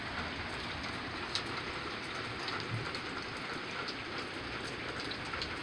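Steady heavy rain pours down during a severe storm, a dense, continuous hiss with scattered drop patters, constant in loudness throughout with no voices.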